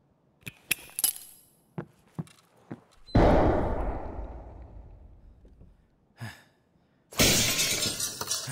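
A glass window breaks in Escape from Tarkov, a loud crash of shattering glass with a long tinkling tail, preceded by scattered footsteps and light knocks and followed by further bursts of breaking glass.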